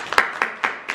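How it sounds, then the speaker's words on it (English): Children clap in a classroom during a quiz, four or five close, sharp claps spaced evenly in quick rhythm. "Clap yourselves."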